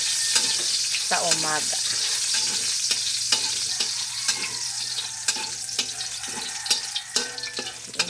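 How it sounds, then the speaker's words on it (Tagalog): Food sautés in a pan with a steady sizzle while a utensil stirs and scrapes, tapping now and then. A brief spoken phrase comes through. "Gisa-gisa na natin."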